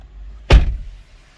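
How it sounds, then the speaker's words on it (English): A 2021 Tesla Model 3 Long Range door swings shut with a single sharp, close thud and a short rattling tail, alone in a quiet setting. "Wow, listen to when I close it. Listen to it. Did you hear that rattle?"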